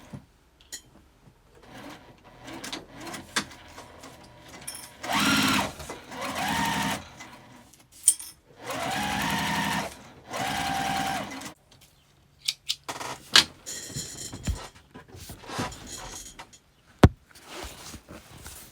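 Sewing machine stitching a tote bag in bursts, several runs of steady mechanical whirring separated by pauses with small clicks and handling noises of fabric, moderately loud and close, with no talking.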